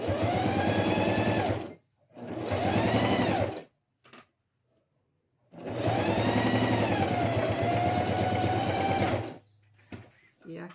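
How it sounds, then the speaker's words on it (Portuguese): A sewing machine topstitches a box-style zippered pouch in two long runs of steady, close stitching separated by a pause, with a few short bursts near the end. "E aqui está a outra costura de pesponto."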